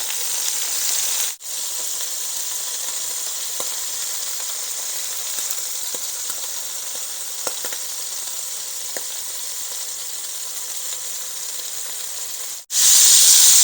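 Seafood sears in a hot pan with a steady, close sizzling hiss that holds evenly throughout, broken by a couple of brief pauses and a few faint clicks.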